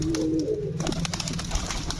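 A homing pigeon coos nearby, a brief throaty call at the start followed by softer fluttering and scattered bird noises from a home loft.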